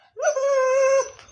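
A large dog howls once, a single sustained, steady, mournful tone lasting about a second, close and clear with no talk over it.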